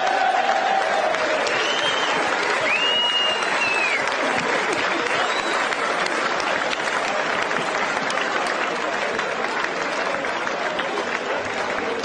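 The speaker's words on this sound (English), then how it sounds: "Give her a big applause." A big crowd of United fans gives a sustained, dense round of applause for a woman saxophone player, a loud, steady wash of clapping that lasts throughout, with faint cheers or whistles mixed in.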